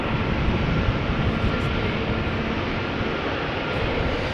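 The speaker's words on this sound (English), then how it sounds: "Second GE90 starting up." GE90 jet engine spooling up at Schiphol airport, a steady loud broadband roar with a faint whine, continuous throughout and without speech.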